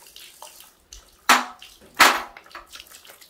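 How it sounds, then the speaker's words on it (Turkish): Water from a tap splashes in two loud short gushes between quieter trickling, close by, as if being turned on and off. "Şöyle suyu bir kapatayım."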